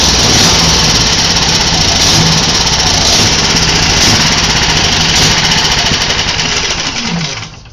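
A small fuel engine drives a Fisher and Paykel Smart Drive motor under test, a loud steady close-up drone that sputters and winds down at the end as it runs out of fuel.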